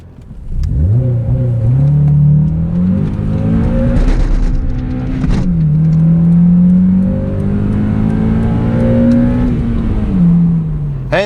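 A Honda Accord Euro CL9 accelerates hard from inside, its engine note climbing loudly through the revs with quick dips at each gear change, then pulling up again steadily.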